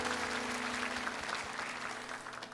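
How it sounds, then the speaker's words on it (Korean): A church congregation applauding during a Sunday worship service, a dense, steady wash of many hands clapping together that fades slightly toward the end. "우리 하나님께 박수로 감사와 영광 올려드리겠습니다"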